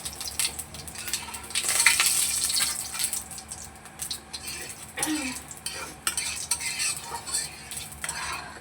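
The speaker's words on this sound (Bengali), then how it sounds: "তেল গরম হয়ে গেছে, চাটনিতে ফোড়নে দিয়ে দিচ্ছি একটু পাঁচফোড়ন আর একটু শুকনো লঙ্কা" Panch phoron and dried red chilies crackling in hot oil for a mango chutney, with bright spitting sizzles, stirring scrapes and utensil clinks that rise and fall.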